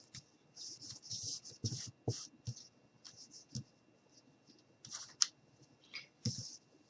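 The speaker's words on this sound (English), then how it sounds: "we're just going to go ahead and cut out around the guitar" Scissors cut paper around a glued-down mini guitar cutout, a series of close, quiet snips and crisp paper rustles in irregular bursts.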